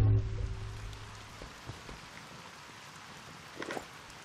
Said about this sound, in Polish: No proszę, deszczyk nam się zrobił